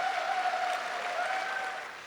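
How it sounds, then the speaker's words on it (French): An audience at a fashion event breaks into steady, dense applause, a sustained round of clapping that tapers off slightly toward the end, with faint voices underneath. "Applaudissez-le."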